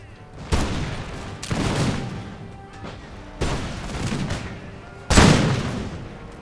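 Four loud musket volleys from Russian line infantry in Empire: Total War, each a sharp crackling burst that trails off into rolling echo, spaced a second or two apart.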